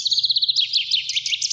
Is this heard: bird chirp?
yes